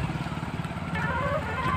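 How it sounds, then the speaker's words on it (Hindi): A tractor-driven cutter thresher machine runs with a steady, loud, rumbling engine drone and mechanical churning, continuous and close, with no talking. "कटा थ्रेसर है बहुत ही बढ़िया ट्रैक्टर चलता है इस पर"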